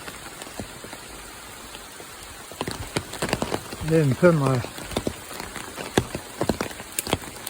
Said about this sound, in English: It's been raining at least 20 minutes now.